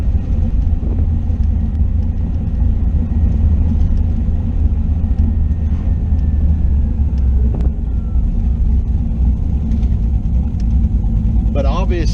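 A car engine cruises at a steady 1500 RPM on the road during torque converter testing, producing a loud continuous low rumble and drone with no change in pitch, heard from inside the vehicle.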